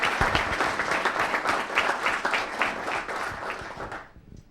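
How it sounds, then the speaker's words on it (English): An audience at a school board meeting applauds a teacher, a dense steady clapping from a room full of people that fades out at the end. "So let's give another round of applause to Mr. Pogue"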